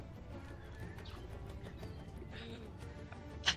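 A horse neighs and its hooves clip-clop faintly in a Dungeons & Dragons tabletop session, soft and distant, with a brief sharper sound right at the end.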